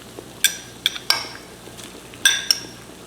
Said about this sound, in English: All the broccoli goes in.